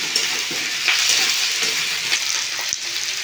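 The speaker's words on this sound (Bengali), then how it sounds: "কেটে রাখা ক্যাপসিকাম ভালো করে ভেজে নেব" Chopped capsicum fries in hot oil, a loud, dense sizzle with crackling pops throughout and a stirring scrape near the end, heard alone.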